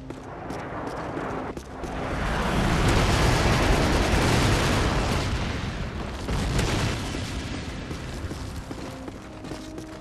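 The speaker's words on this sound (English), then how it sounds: "Friendly airstrike on the way." Heavy rolling explosions from a friendly airstrike in the shooter game Call of Duty Modern Warfare, a dense continuous barrage of booms swelling to a loud peak midway and then easing into scattered blasts.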